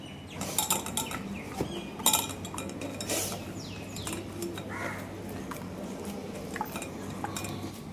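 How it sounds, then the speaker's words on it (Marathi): Kitchen utensils clink and scrape steadily while freshly ground coconut is strained, with frequent metallic taps and crows calling faintly outdoors. "आता आपण हे छान गाळून घेऊ"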